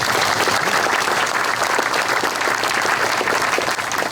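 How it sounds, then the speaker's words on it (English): Loud, sustained applause from the audience at a 2022 Memorial Day ceremony in Fort Walton Beach, Florida: a thick, even wash of many hands clapping that continues without a break, with no voices over it. "Give them a round of applause."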